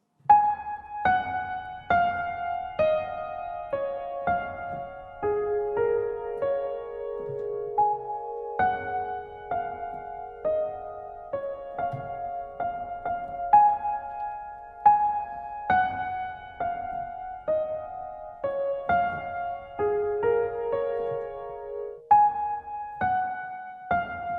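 Slow solo piano melody, single notes and soft chords ringing out one after another with gentle sustain, clear and close with no voices.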